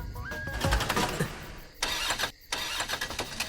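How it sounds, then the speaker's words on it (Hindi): A car engine cranks and sputters, then stalls and fails to start. It sounds close and fairly loud, with short bursts broken by a brief drop-out and no speech. "गाड़ी बंद हो गई और क्या?"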